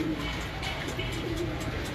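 Pigeons on a rooftop coo softly in low, rolling calls over a steady outdoor background, a couple of coos close together within a short moment.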